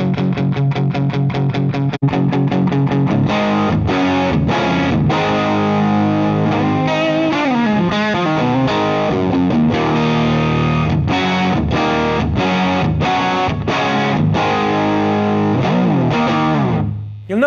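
Distorted electric guitar played through a Laney LA-Studio amplifier on its second cabinet setting, loud chugging chords and riffs with steady rhythmic stabs and sustained ringing notes throughout.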